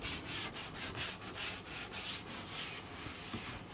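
Thick primer over oak grain is hand-sanded in quick, even back-and-forth strokes, a rhythmic soft rasping repeating steadily at close range.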